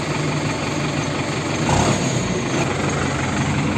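A forage harvester's engine runs at a steady, rough idle close by, then swells briefly as the throttle is opened before settling again.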